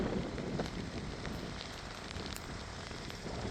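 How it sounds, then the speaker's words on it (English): Steady rain hisses continuously, a dense, even patter with no voices. "More rain."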